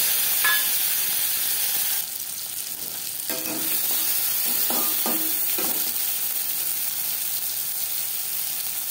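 A tomato drops into a hot pan of fried whole cumin and dried red chilies, a steady frying hiss that dips briefly, then resumes with a few sharp pops and utensil clinks.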